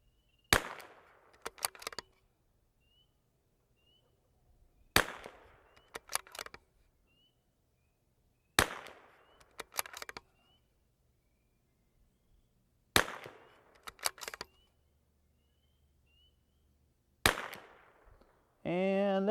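A rifle fired outdoors in a group of five evenly spaced shots, each a sharp crack with a short decay, separated by quiet gaps in light wind.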